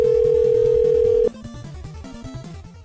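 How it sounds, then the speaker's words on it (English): A loud, steady telephone tone sounds on a call line for just over a second, then breaks off into jumbled, choppy electronic tones that keep stepping up and down until the end. "I'm trying to call back and it's busy."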